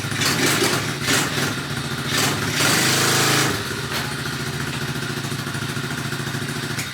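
A Chinese dirt bike engine idles nearby with a rough, rapid mechanical chatter, briefly revving louder in a short surge before settling back to a steady putter.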